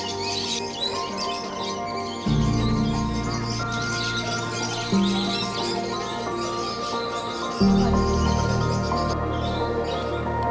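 A dense chorus of small amadina finches chirping and twittering nonstop, close and loud, over a low steady hum.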